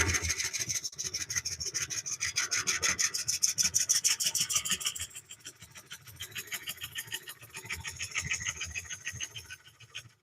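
A carbide tool chatters and grabs against a wooden bowl spinning on a lathe. A loud, rapid, rhythmic scraping judders through the cut, eases off midway, then swells again before fading.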